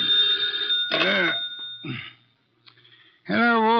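An old-fashioned telephone bell rings in a vintage radio detective drama, with two loud bursts of ringing separated by a short gap. A voice speaks briefly just before the first ring.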